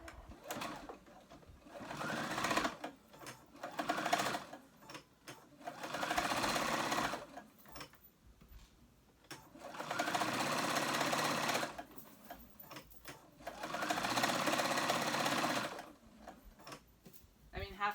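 A sewing machine stitches a ruched tee in four steady bursts of rapid mechanical whirring, each a couple of seconds long, separated by brief pauses, with a voice speaking between the runs.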